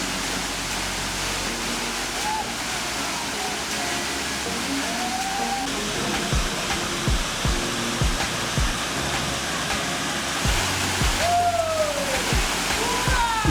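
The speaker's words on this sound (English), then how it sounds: "This waterfall has 3 showers with a height of 14 meters." The Elong Tune waterfall on Rinjani mountain, with three falls 14 meters high, sends up a steady broadband rush of falling water, with occasional faint chirps and knocks over the constant roar.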